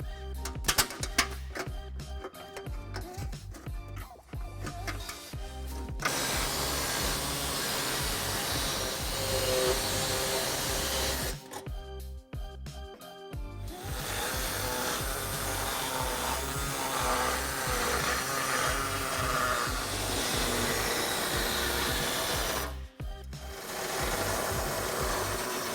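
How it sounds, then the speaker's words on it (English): An air saw cuts through car bumper material during a trailer hitch install on a 2013 Kia Optima, buzzing loud and continuous in long runs with a few short pauses between cuts. "cutting with either an air saw, as I have here, or a set of snips"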